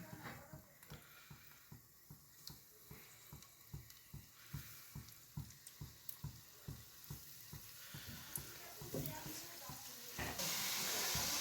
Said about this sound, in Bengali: তেল গরম হয়ে গেছে, পিঠাগুলা দিয়ে দিলাম।